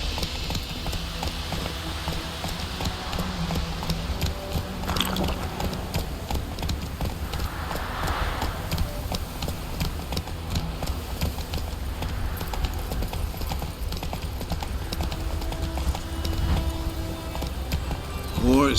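Roach, the horse in the video game The Witcher 3, trots with steady rhythmic hoof clip-clops under ongoing game ambience, with voices talking intermittently over the hoofbeats.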